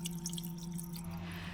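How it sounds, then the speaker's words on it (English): A camping lantern is held under running water, giving a steady stream with dripping and splashing, plus a low hum in the background and no talking. "to clean my lantern, I've just got to run it under water and then allow it to dry before using it"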